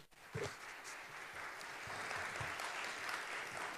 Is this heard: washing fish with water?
no